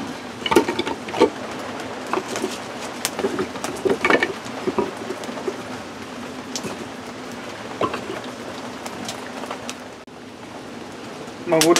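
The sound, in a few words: rain falling outdoors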